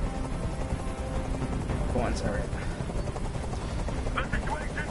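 A helicopter in Detroit: Become Human hovers nearby with a steady, loud rotor thrum that dominates throughout. A brief muffled voice speaks over it.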